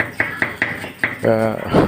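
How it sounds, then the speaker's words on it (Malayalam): Large copper cooking pots, used for cooking biriyani at a mosque for Nabidinam, are washed with four sharp metallic clanks in a loose rhythm, then a voice speaks over further clattering. "കൂടെയുള്ളവർ തന്നെ ചെമ്പ് കഴുകുകയാണ്"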